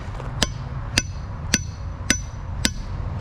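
A hammer strikes hot steel on an anvil while forging an S hook, six sharp ringing blows at an even pace about half a second apart, close and clear with no talking.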